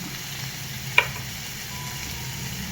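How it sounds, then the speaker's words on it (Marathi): Pumpkin and spices sautéing in a pan for veg dalcha give a soft, steady, low-level sizzle, punctuated once by a brief clink of the utensil; no voices. "आपण आता याला चांगलं छान असं परतून घेऊ"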